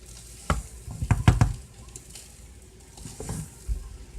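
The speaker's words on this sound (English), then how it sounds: "I'm also going to stir the rice. Stir it from the bottom so the bottom doesn't burn." Rice simmering with water in a pot for an Angwamu dish is stirred from the bottom, with a few clustered scraping strokes over a soft bubbling sizzle, fairly close and fairly quiet.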